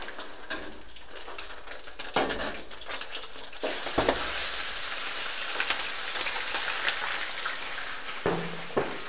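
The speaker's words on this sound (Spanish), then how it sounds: "Añadimos el pollo, ya tenemos el aceite caliente." Free-range chicken pieces frying in hot oil in a pan for seasonal rice, a continuous close sizzle with occasional louder spatters and stirring clatters.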